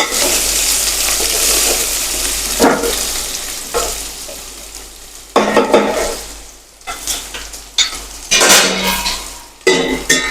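Vegetables sauté in oil in a pan with a steady, close sizzle, broken by stirring scrapes and light clinks of a utensil against the pan.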